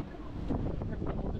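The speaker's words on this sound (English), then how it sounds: "Oh my god, it's so windy." Gusty wind buffets the microphone in a steady low roar in London, with faint voices murmuring underneath.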